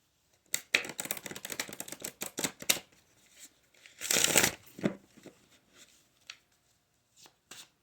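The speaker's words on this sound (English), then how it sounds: "One more good little shuffle." A deck of tarot cards being shuffled close up: a run of quick riffling bursts, a louder riffle in the middle, then a few soft taps and a pause.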